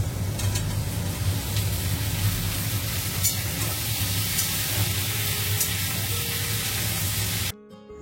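Pointed gourd (potol) frying in oil in a kadai, a continuous dense hiss and sizzle with a low rumble beneath, heard close and steady for about seven seconds before cutting off abruptly.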